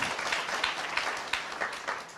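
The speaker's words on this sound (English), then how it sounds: "Let's clap for our peers" An audience in a conference hall at an NGO week event gives a moderate round of applause, the scattered claps rising and falling in loose bursts.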